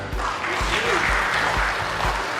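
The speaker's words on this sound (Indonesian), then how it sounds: "Tepuk tangan." A crowd at a public consultation forum in Subang claps in a broad, even wash, while steady low thumps pulse underneath at a regular beat.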